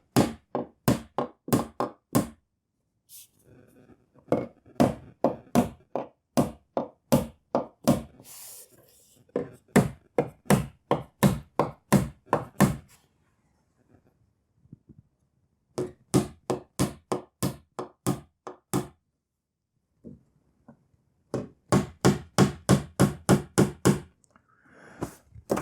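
A metal plaster bead on an arched passage is knocked into place with a whacker, giving rapid bursts of sharp, close taps in quick runs, separated by brief pauses.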